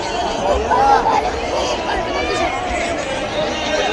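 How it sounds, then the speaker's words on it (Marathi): A large crowd gathered at Chaityabhoomi in Dadar, Mumbai, to pay homage to Ambedkar fills the air with a dense, steady babble of many voices, with a nearby voice speaking over it. "गर्दी आहे, गर्दी."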